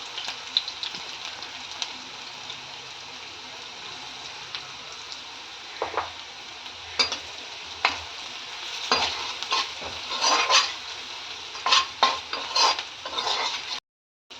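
Soya chicken stir-fried with green chillies, turmeric and coriander powder, a quiet sizzle under repeated metal spoon scrapes and clinks against the pan that grow busier toward the end, close, with no talk.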